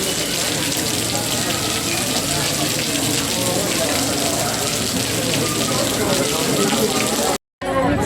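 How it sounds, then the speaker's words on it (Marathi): Heavy rain pours steadily and loudly outdoors at a temple area with trees, a dense continuous hiss that runs unbroken apart from one brief cut near the end. "थोडंसं बसलो की पाऊस चालू झाला जोरात"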